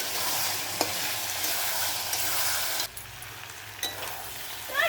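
Red spicy chicken kosha stir-fried in oil over a wood fire, a continuous sizzle broken by a few sharp spatula scrapes against the pan, close by, with no talking.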